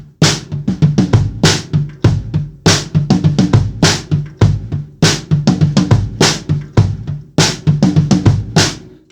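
Drum kit groove with the left hand on a second tom, filling in the notes between the backbeats on 2 and 4, so quick tom strokes run around crisp snare hits in a busy, loud, close pattern.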